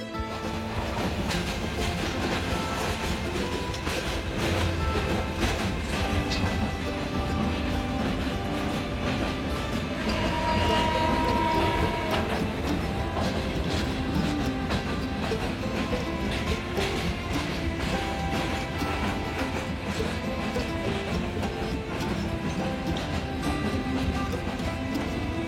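The Jamuna Express rolls along its rails with a constant loud rumble and a rhythmic clickety-clack of wheels over the joints, heard from on board with no talking.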